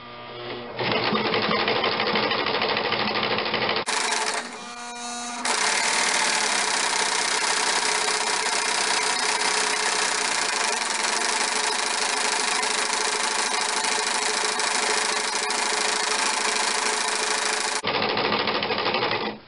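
Sewing machine stitching forward and in reverse along a factory-sealed edge of nun's veil fabric, a continuous fast mechanical whir running steadily for most of the stretch with a short pause midway, close and loud, no voices.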